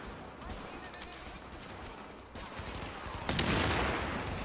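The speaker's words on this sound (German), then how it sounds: "Wow, war das deine Granate?" Grenade blast in The Division, a burst of broadband noise swelling near the end over a steady bed of gunfire and game ambience, with no clear talk.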